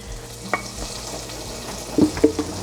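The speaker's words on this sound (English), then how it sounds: "Butter sounds like it's getting sizzly." Whisk clinking and stirring through flour in melted, sizzling butter for a roux in a pot, with a steady low frying hiss and a few sharp metal taps near the end.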